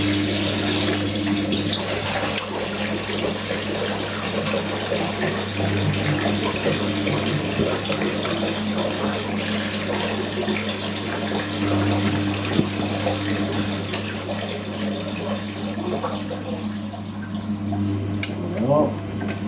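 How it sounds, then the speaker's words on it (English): Washing machine draining water out of its hoses, a steady close hiss and gurgle of running water over a constant low motor hum, continuous and moderately quiet. "I'm draining the water out of the hoses."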